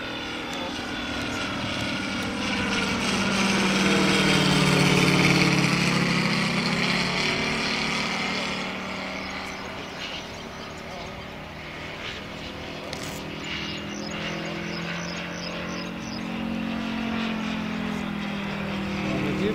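A Ziroli Stearman model biplane with a Moki 150 radial engine flies overhead, its propeller drone swelling loud as it passes and then receding into a steady distant buzz while people talk nearby.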